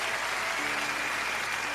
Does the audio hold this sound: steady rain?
no